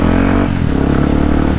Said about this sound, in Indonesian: Hey kamu yang pakai motor NMAX warna putih